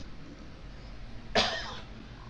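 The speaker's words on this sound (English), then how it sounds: "Just got this cough left, every once in a while." A man getting over a cold gives a single short, harsh cough partway through, close and alone against faint background hiss.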